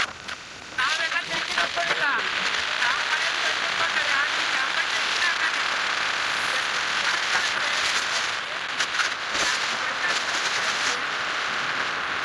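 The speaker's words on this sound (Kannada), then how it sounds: "ಇವಾಗ ಸದ್ಯಕ್ಕೆ ಮಳೆ ಬಂದಿತ್ತು" Rain falls steadily on a surface as a continuous hiss with scattered patters and crackling drops, fairly close and even throughout, with a brief quieter moment at the start.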